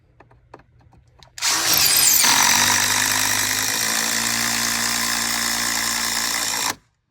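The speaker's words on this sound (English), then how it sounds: "it's easier just to take your drill and drill it back out again" A power drill runs close and loud for about five steady seconds, winding up abruptly and cutting off, as screws are driven while fitting hurricane protection panels.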